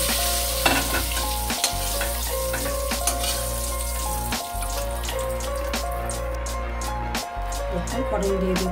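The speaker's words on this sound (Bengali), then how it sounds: "দেখুন আমার আলু পটলটা আমার ভাজা হয়ে যাচ্ছে" Potato and pointed gourd fry in a pan with a loud, continuous sizzle. Stirring knocks sound a few times, and a tap runs briefly as a voice talks.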